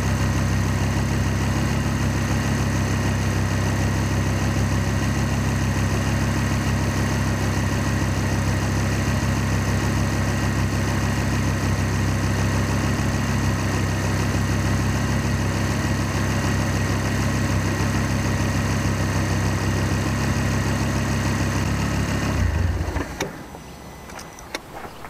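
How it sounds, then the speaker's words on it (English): A Volvo S60R engine idles steadily after an oil and filter change, a constant low hum with even vibration that cuts out abruptly near the end. "I've started the engine up again, just letting it idle, just let it circulate the engine again."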